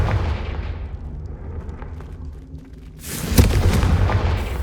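A Confringo blast spell cast in the Hogwarts Legacy video game, heard as a dull rumbling boom that gives way to a sharp, bright explosive burst with crackling debris, all loud and close with no talk.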